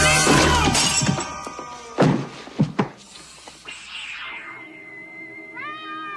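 A cat in a horror drama scene gives a short, rising-and-falling meow near the end, after loud crashing and shattering impacts and a few sharp thuds.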